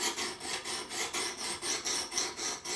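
Steady rhythmic rasping strokes of a Spyderco Para 2 knife blade drawn across a lower-grit stone on a sharpening system, close and even, about four strokes per second with no talking.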